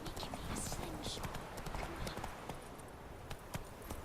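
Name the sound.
horse hooves while riding in video game The Witcher 3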